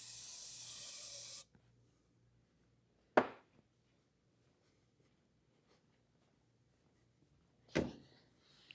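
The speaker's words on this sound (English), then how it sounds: "Let's spray some of this" An aerosol can hisses into the ignition lock of a 1950 Plymouth barn-find car in one steady burst that stops abruptly. Two sharp knocks follow, separated by long stretches of near silence.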